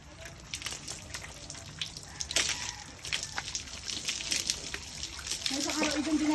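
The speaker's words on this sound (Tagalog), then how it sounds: "Ay nako, salamat naman nakalipoy ng tubig." Water running from a tap during an outdoor bath on a hot day, a soft uneven splash and trickle heard under intermittent talking, fairly quiet and close.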